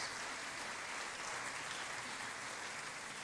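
Church congregation clapping in sustained, dense applause, steady and even throughout, with no voices standing out.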